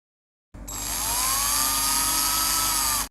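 A power drill boring holes into a water tank to mount a float unit, one steady whining run of about two and a half seconds that starts and stops abruptly, close and alone.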